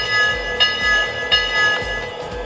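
A Lionel NYC Pacemaker 2-4-2 model steam locomotive rings its bell, with two clear strikes at an even pace and a bright ring that fades between them, close and alone.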